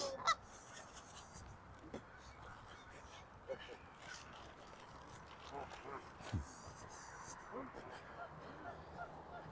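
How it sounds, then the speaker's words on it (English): Geese honk by a lake in a city park, a few scattered calls from nearby and farther off over outdoor ambience, with a person talking at times. "And feeding the geese."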